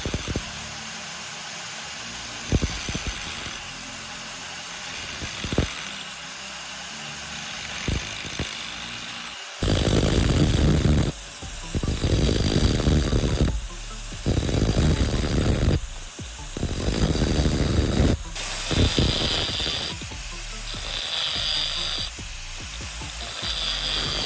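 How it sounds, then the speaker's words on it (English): An angle grinder cuts diagonal grooves across the face of a small metal bar. A few quiet clicks and knocks come first, then loud, harsh grinding bursts that start and stop repeatedly. "On this surface, I'll use the angle grinder to create diagonal grooves across the entire face."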